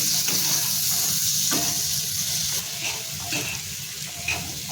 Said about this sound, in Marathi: आता हे पूर्ण मसाल्यामध्ये ना 2 ते 3 मिनिटं आपल्याला असे शिजून घ्यायचे आहेत